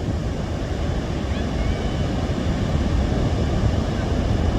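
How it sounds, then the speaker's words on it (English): Pacific Ocean surf at a beach near an old shipwreck in Oregon on an overcast day, a loud, continuous roar of breaking waves with wind buffeting the microphone and no voices. "So this is the Pacific Ocean"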